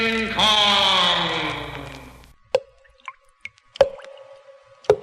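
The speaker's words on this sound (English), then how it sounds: "The sound you hear is dripping blood." Blood drips in a horror film trailer for Black Sunday, four or five crisp, resonant drops falling one by one into stillness after a fading sustained tone, each drop distinct and close.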